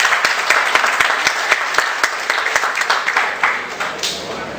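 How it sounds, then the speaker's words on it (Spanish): Audience applause at a university conference in Cali welcomes a speaker, a dense run of claps lasting several seconds at steady moderate loudness, with individual claps standing out and tapering slightly near the end. "con un fuerte aplauso recibimos al doctor Julio Alejandro Telles."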